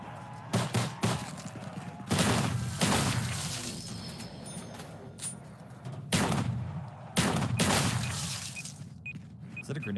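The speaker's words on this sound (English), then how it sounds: "Oh, it's the exploding bolts." Exploding bolts in the VR shooter Contractors: repeated sharp, shattering blasts in irregular bursts, loud and close, each with a crackling tail over steady game noise.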